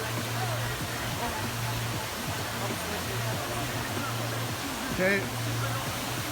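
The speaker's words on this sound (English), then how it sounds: "We out here chasing waterfalls." Waterfall rushing as a steady broadband wash in the background, with people talking over it and a brief bump near the end.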